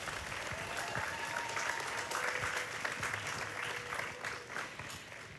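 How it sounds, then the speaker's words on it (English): An audience applauds at the Rebildfesten 2023 celebration: steady, dense clapping that holds at an even, moderate level from start to finish, with a faint tonal hum underneath. "Please make a big applause and welcome Tova Brandt"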